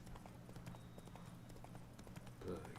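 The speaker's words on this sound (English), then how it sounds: "I think this horse has done something to Roach" Horse hooves clip-clop steadily on the ground in The Witcher 3, a quiet rhythmic beat of many fast steps under a low, muffled game background.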